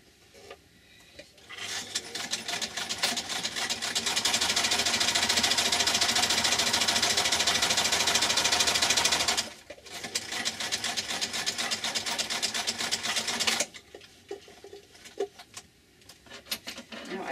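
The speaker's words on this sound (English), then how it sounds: "but you can hear me sew." A sewing machine runs in a rapid mechanical whir for several seconds, pauses briefly, then stitches again in shorter bursts with occasional quiet gaps.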